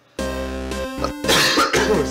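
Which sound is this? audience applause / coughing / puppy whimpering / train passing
coughing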